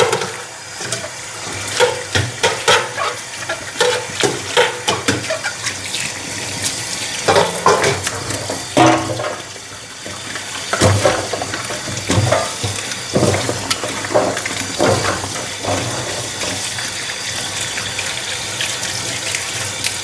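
Taro roots are washed under a running kitchen tap: a close, gushing stream of water with irregular splashes and surges as the roots are rubbed and turned.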